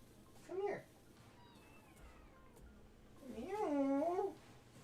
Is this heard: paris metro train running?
no